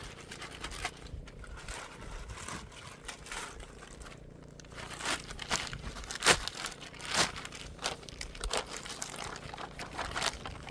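A premium 25 litre plastic bag of Aussie potting mix is handled up close, with irregular crinkling and rustling plus a few sharper crunchy scrapes, and nobody talks.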